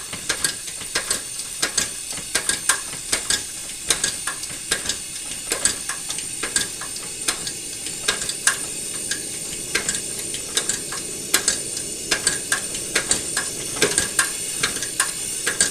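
Hand pump forcing air into a 1938 Primus 77 kerosene stove, repeated squeaky clicking strokes in a steady rhythm, close, over a soft background hiss of the burner.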